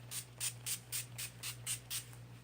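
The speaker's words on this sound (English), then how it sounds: "I'm just going to spray that all over my face to ensure that it is locked in." NYX Matte Finishing Spray misted over a face in about eight quick, even pumps, each a soft short hiss, faint and close in a quiet room.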